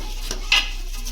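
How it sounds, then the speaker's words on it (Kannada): Rice being stirred in a pan for tomato bath, a brief dry scrape of a spoon through grains, close and soft, with one sharper scratch midway. "ಈಗ ಅಕ್ಕಿನೂ ಚೆನ್ನಾಗಿ ಕೈ ಆಡಿಸೋಣ"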